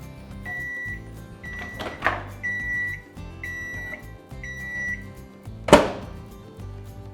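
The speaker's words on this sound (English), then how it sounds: "So I'm just going to put this in a microwave." Microwave oven melting butter: a low steady hum with several short beeps and a couple of sharp door clunks or thuds.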